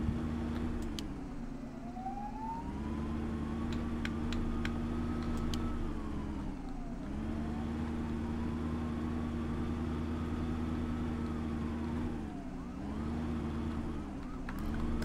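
An ambulance siren wails in a video game, rising and falling in long, loud, steady sweeps over a continuous engine drone, with no voices.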